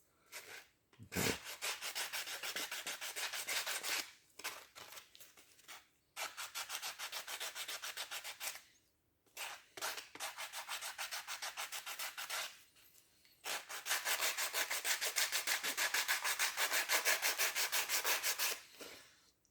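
Steady rasping strokes of hand sanding plastic on a Honda ST 1100 mirror, several long bursts separated by brief pauses, close and loud with no talking.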